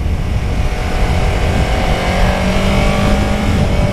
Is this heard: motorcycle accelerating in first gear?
yes